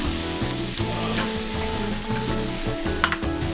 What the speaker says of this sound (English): It is time to get our figs into the pan. And I just want to get a little color on these.